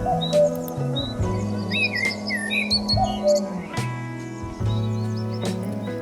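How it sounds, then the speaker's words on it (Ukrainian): Birds chirp and sing in a meadow setting, several high twittering calls overlapping above a steady background of held tones, continuous and moderately close throughout. "Любила вона слухати, як співають пташки"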